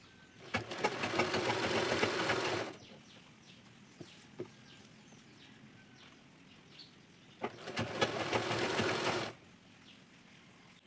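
A sewing machine runs zigzag stitching along the fall of a mirror-work saree, two loud steady bursts of about two and three seconds each with quiet handling between.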